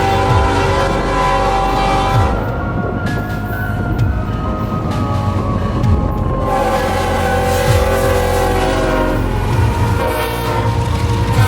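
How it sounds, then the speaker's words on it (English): A BNSF intermodal freight train, pulled north by two foreign locomotives at night in Crowley, Texas, roars past loud and close with a sustained blaring horn and steady rumbling, clattering wheels. "This train would be revealed to be the Robalt, intermodal screaming north with 2 foreign units to pull the load"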